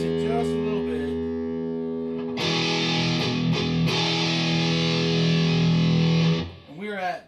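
An electric guitar plays through an Electro-Harmonix Pocket Metal Muff distortion pedal in low scoop mode, with distortion at a quarter and volume just past halfway, giving sustained, buzzy chords that ring close and loud and then fade out.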